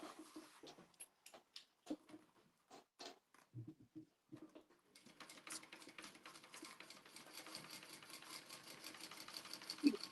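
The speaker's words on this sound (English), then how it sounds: "now I'm going to sew that all the way across." A home sewing machine stitches across fabric in quilt piecing, with short stop-start bursts early that settle into a steady continuous run, close and moderately loud.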